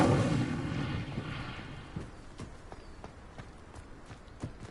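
An Incendio fire spell in Hogwarts Legacy bursts with a loud whooshing roar of flame that decays over a couple of seconds, followed by faint, scattered thuds and footstep-like taps.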